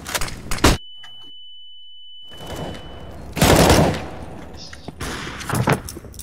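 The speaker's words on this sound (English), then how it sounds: "Grenade out!" A tactical shooter game firefight with a grenade blast and bursts of gunfire, several sharp loud bangs separated by a short near-silent gap and a thin ringing tone, with a deeper booming burst in the middle.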